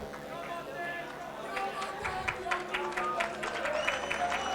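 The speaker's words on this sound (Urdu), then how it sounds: "آپ سب کی بھرپور تالیوں میں کامران عثمانی صاحب شیلڈ پریزنٹ کر رہے ہیں" Steady applause from a crowd at a shield presentation to the Governor of Punjab fills the clip, with voices and chatter mixed underneath.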